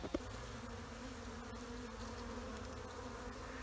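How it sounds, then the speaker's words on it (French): Honeybees buzz steadily at a hive entrance as they wait to get in, forming a continuous, dense insect drone that is close and quiet, with no talk. "regarde les autres abeilles, Denis, t'as vu?"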